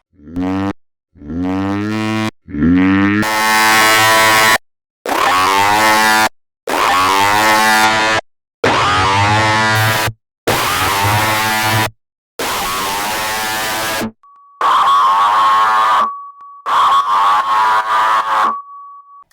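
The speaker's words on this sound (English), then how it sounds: "I stretched it. And then I added tons of effects on it." A series of heavily processed, time-stretched vocal bursts for a hardstyle screech in FL Studio 20, distorted and buzzy, separated by short gaps; later bursts carry a steady sine-like whine on top.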